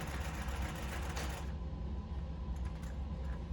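A zigzag sewing machine runs steadily, stitching with a continuous rapid mechanical whir that holds close and even from start to finish.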